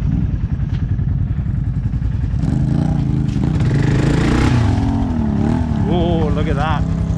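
A built Honda Fourtrax 300 ATV engine runs steadily with a throbbing low rumble throughout, rising in intensity partway through, while voices talk over it.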